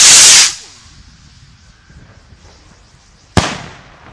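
New Year's Eve fireworks rockets go off outdoors, one sharp loud bang at the start with a hissing decay, then quiet crackle, and a second close, sudden crack near the end.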